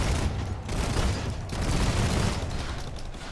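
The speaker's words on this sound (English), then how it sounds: "Who is shooting me?" Gunfire in the Planetside 2 battlefield game, a dense noisy barrage of rapid shots and blasts rolling on in bursts, loud and close, with no talking.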